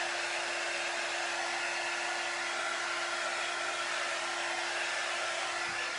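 A low-heat tool, about 140 degrees, blows steadily over a chalk transfer, giving a continuous airy hiss with a constant motor tone close by and no talking.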